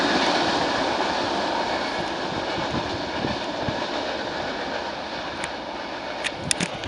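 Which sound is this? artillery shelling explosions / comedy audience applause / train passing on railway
train passing on railway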